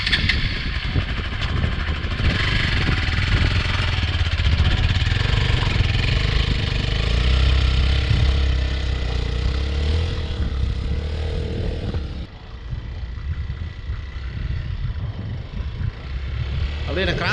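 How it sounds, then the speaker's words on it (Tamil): A Hero XPulse 200 motorcycle, stuck in sand while off-roading, starts up and pulls out slowly, its steady mid-pitched engine drone running close and loud throughout, easing slightly near the end as someone talks over it. "இதுக்கப்புறம் வண்டி ஸ்டார்ட் பண்ணிட்டு அப்படியே ஸ்லோவாக ஆக்சிலேட்டர் கொடுத்தீங்கன்னா"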